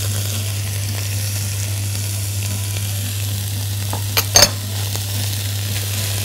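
Eggplant and tomato sauce frying in a pan, a steady low sizzle with a constant background hum and a brief clatter near the end, no talking.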